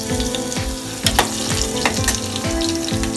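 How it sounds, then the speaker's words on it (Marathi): Finely chopped garlic sizzling in hot oil in a pan while cooking Varhadi mutton, a loud continuous frying crackle with stirring scrapes at a regular rhythm. "तेल आपले गरम झाले आहे, त्यामध्ये हा थोडासा बारीक करून घेतलेला लसूण आहे, हा टाकूया।"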